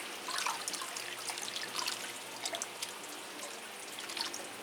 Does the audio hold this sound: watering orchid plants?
yes